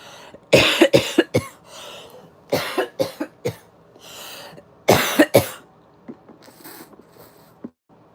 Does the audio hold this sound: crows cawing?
no